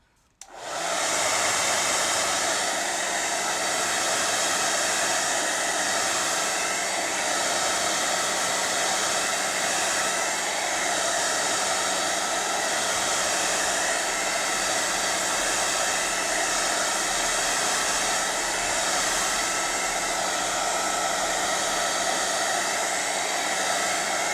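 A hair dryer blows continuously on a wet drawing, switching on abruptly and then holding a loud, steady whoosh close by for the whole stretch, with no voices.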